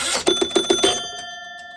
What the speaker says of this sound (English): You got your huge bell right here.